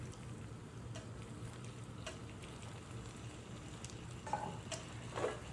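Noodles sizzling in a pan as they are stirred, a low steady frying hiss with occasional light scrapes and clinks of utensil on pan, close and quiet, no voices.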